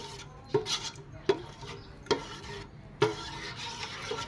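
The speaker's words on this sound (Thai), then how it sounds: "อันนี้ก็คนไปเรื่อยๆให้ ตัวพริกแกงกับตัวน้ำตาลกับ พวกไข่นะครับ ให้แตกกันดีเลยนะครับ" Spoon stirring Thai curry paste, sugar and eggs in a bowl for steamed snakehead fish curry, four distinct scraping knocks spaced about a second apart over faint kitchen background, no talk.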